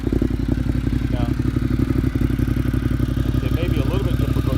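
A 2016 Ducati Monster 1200R motorcycle engine idles steadily and loudly throughout, a low rumbling exhaust pulse with faint clatter on top, and no voices over it.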